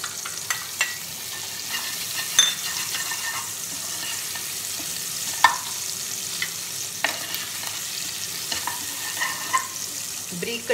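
Curry leaves and finely chopped green chillies fry in a pan for a dhaba-style egg curry, giving a continuous hissing sizzle with scattered pops and crackles, close by and with no talk.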